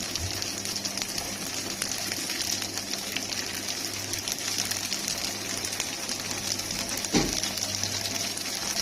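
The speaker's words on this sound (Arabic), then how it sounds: "توم مفروم اهو يا جماعه، احمره برضه" Minced garlic frying in a pan for a taro dish, a steady soft sizzle with faint crackle continuing evenly, plus a brief knock near the end.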